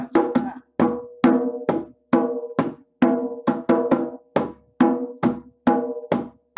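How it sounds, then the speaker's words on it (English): An easy rock beat is struck on a djembe drum, about a dozen sharp, ringing hand hits in a steady repeating pattern, close and clear with short decays and no talking. "So here's their easy rock beat."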